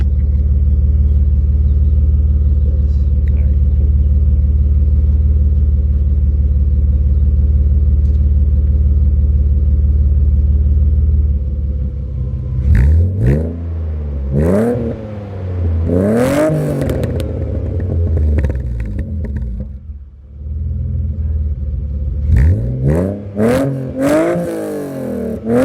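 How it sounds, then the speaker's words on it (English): A BMW E46 with an EGR delete rumbles at a steady idle for about twelve seconds, then its exhaust barks through several sharp revs that rise and fall, with clattering bursts near the end. "I'm gonna give you guys a few sound clips of the exhaust."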